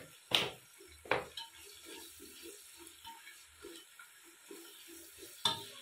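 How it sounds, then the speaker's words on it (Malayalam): Chopped onion stirred and sautéing in a pan for chicken biryani: faint sizzling throughout, with a few sharp spoon scrapes against the pan near the start and end. "ഉള്ളി ചെറുതായിട്ടൊന്ന് ഇളക്കിയതിന് ശേഷം"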